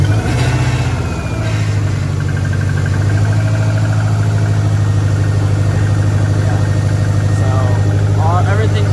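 A 2003 Subaru Impreza WRX engine settles into a steady, loud, close idle with a deep, even drone after being started, holding constant throughout while a voice speaks faintly under it.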